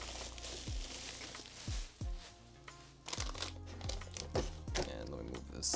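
A keyboard box being cut open, with crinkling plastic and cardboard, scraping and sharp tearing strokes in irregular bursts, close by and fairly quiet.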